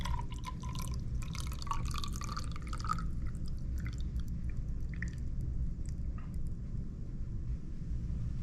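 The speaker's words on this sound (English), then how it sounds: "the half a cup of bleach into the squirt bottle" Bleach poured from a cup into a plastic squirt bottle of water, close trickling and dripping splashes for a few seconds, then faint drips and handling over a steady low background hum.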